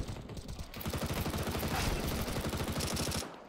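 Rapid continuous burst of MP7 submachine gun fire in the Counter-Strike 2 video game, a dense rattling fusillade lasting about three seconds, loud and unbroken.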